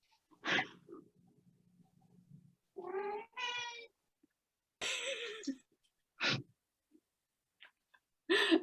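A cat meows several times in short, separate calls, a few loud and near and others softer, with brief breathy, throaty sounds and quiet pauses between them.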